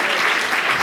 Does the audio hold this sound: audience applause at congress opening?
yes